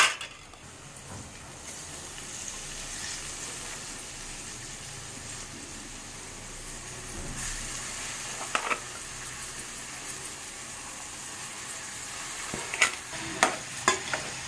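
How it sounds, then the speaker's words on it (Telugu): Cabbage pieces hit a hot pan and sizzle as they are stirred and fried for a cabbage curry, a soft steady frying hiss broken near the end by a few sharp clinks of a utensil against the pan. "ఇప్పుడు మనం క్యాబేజీ ముక్కల్ని యాడ్ చేస్తున్నాం."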